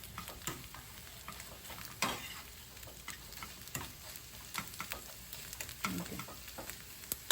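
Rice and shrimps stir-fried in a pan, with steady sizzling and frying crackle, scraping turns of a utensil against the pan at irregular intervals, close and moderately loud, with a brief spoken word.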